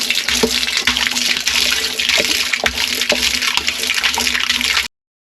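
Distilled water pours steadily into a barrel for a wetting-agent batch, giving a loud, close, continuous splashing gush with small drips and knocks, then cutting off abruptly.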